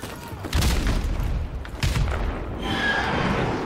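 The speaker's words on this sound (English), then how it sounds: "Friendly airstrike on the way!" Airstrike explosions in Call of Duty Modern Warfare Remastered: two heavy booming blasts about a second apart roll over a rumbling battlefield, with lighter debris noise trailing after.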